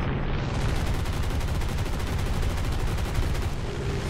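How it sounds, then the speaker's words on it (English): Gunfire striking a player's aircraft during a dogfight in War Thunder arcade mode, a loud continuous crackling barrage of hits and engine roar lasting the whole four seconds. "Now I get shot at a little bit there."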